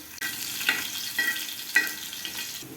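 Chopped chilli, garlic and ginger sizzle in hot ghee and oil for a mushroom butter masala, a steady close hiss broken by a few soft scrapes of stirring.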